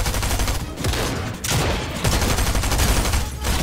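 Loud, dense bursts of gunfire in Fortnite fill the moment, rapid shots running nearly continuously with brief dips between volleys and no talking.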